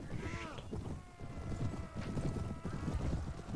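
Horse hooves clip-clopping during a mounted battle in the video game Mount and Blade Warband, steady hoofbeats mixed with a brief neigh and busy game noise, with someone talking over parts of it.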